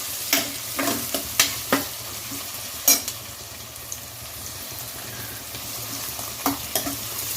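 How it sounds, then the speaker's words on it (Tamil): Onions frying with salt in a pan for duck curry, a steady close sizzle broken by several sharp stirring scrapes and knocks of the spoon, no voices. "உப்பு போட்டதுனால கொஞ்சம் சீக்கிரம் ஃப்ரை ஆகும் வெங்காயம்."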